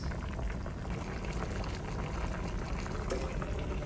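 Water pours steadily into a pot of adobo pork ribs for a curry-flavoured Filipino dish, a close, continuous rushing and splashing that runs without a break.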